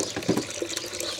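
Freshly pressed cider apple juice pours from a press into a bucket, a steady close splashing trickle over a brief stretch, with no voices.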